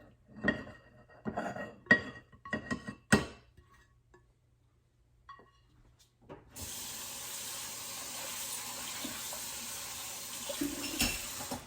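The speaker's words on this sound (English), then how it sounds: "Give the pan a rinse, so it's not a pain to clean later." Clinks and knocks of a pan being handled come first, then after a pause a tap runs in a steady rush of water as the pan is rinsed.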